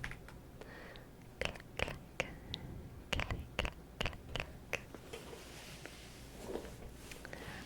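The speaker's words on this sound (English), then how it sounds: "Yes, I also am a big fan of my keyboard noises." Quiet keystrokes on a computer keyboard come in short irregular bursts of clicks, close to the microphone and soft, with no voices.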